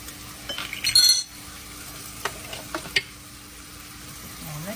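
Red bean paste for vegan oxtails being stirred in a pan, with scraping and clinking of a spoon in short bursts over a low background hiss, close by and with no talk.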